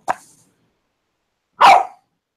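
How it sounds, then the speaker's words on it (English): A young puppy lets out two short, sharp barks separated by a pause, the first small and yelping, the second louder and fuller, with no talk around them. "She barked and it scared me"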